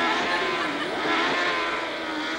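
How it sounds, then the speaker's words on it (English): Racing car engine noise from a staged motor racing accident scene in a TV pilot, a steady high whining roar that holds for a couple of seconds. "Leonard Nimoy suffers an unconvincing motor racing accident"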